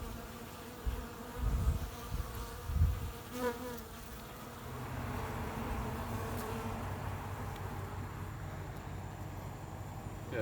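Bees buzz steadily around the vinyl-over-cedar-plywood soffit of a swamp house roof, a continuous close insect drone with a few louder low bumps early on and no talking.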